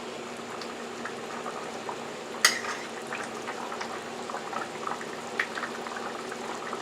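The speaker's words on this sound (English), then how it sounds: "our stew have been cooking for about a total of a half hour" A pot of beef stew simmering, with a soft continuous bubbling hiss and a couple of sharp metallic clinks of a spoon or lid against the pot; no voices.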